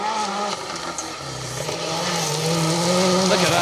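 A rally car slides fully broadside through a forest stage at Kielder Forest, its engine droning steadily with a rising pitch and loud tire noise, alone with no talk.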